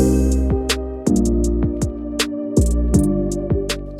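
An emotional, moody beat built with Spitfire LABS sounds: a sustained pad and bass hold under crisp hi-hat clicks and deep booming 808 kicks, steady and full, with no vocals.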